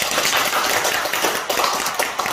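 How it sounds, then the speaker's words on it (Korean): A church congregation claps hands, a dense steady wash of many claps that stays loud and even throughout the short burst. "이럴 때 박수 쳐요."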